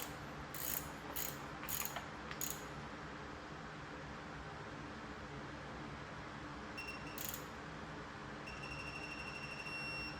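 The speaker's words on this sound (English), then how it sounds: "That long beep is the one we want." A torque or electronic tool tightening a bolt during maintenance on a Honda Insight hybrid: a few quick high beeps early on, then a longer sustained beep, over a steady mechanical hum and faint whirring.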